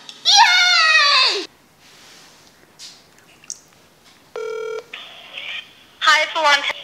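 Keypad tones of a telephone being dialed in a home kitchen, a short evenly spaced burst of beeps between stretches of loud, animated talk.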